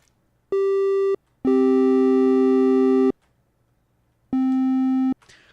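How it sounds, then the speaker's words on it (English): Synthesized boss-spawn sound effect for the game Space Unknown, built on dissonant intervals: three clean, buzzy sustained tones, one short, one long and one medium, separated by silence, ending with a faint airy swish. "I like doing a dissonant interval for these for the bosses spawning in because it sounds foreboding."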